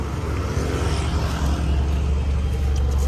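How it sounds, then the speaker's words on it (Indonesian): A Toyota Fortuner with a VNT diesel engine rumbles with a deep, steady idle, heard up close and without talk for about three seconds. "Mari kita coba geber."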